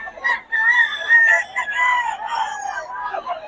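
A rooster crowing close by, one long drawn-out cock-a-doodle-doo with a couple of short clucks, loud and clear against quiet surroundings.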